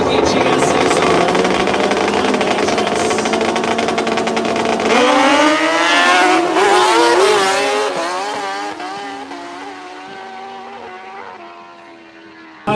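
A 2007 Suzuki GSXR drag bike engine screams at full throttle, its loud, steady wail rising sharply through the gears midway before fading into the distance, with a drag strip announcer talking over it.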